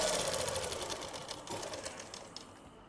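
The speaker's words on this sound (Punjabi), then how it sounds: "ਐ ਖਿੱਚ ਕੇ ਸਲਾਈ ਲਗਾਉਣੀ ਹੈ ਜੀ" A sewing machine runs steadily, stitching a seam on a plazo while the fabric is pulled taut, a continuous close whirring hum with rapid needle clatter and no talk.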